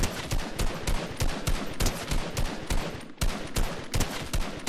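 Assault rifle in Fortnite OG Zero Build tap firing in a steady run of loud, close, repeated single shots with brief gaps, with no talking.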